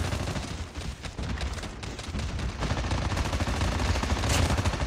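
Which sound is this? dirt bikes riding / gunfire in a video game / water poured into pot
gunfire in a video game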